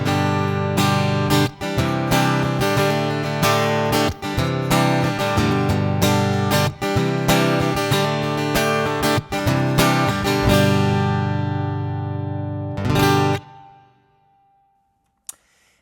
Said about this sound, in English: This is just straight the piezo sound from this guitar.